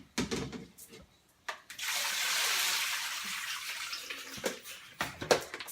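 Tap water runs into a sink to rinse rice noodles, opening with a few clattering knocks, then a steady rushing stream for a few seconds, followed by more handling clunks and splashes.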